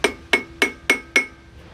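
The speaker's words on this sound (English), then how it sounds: "let me just get a soft faced hammer, or not a metal hammer," Soft-faced hammer tapping a pulley off a 2003 Mitsubishi L200 4D56 diesel engine: five evenly spaced, sharp ringing knocks with a metallic tone, close and loud, no talk.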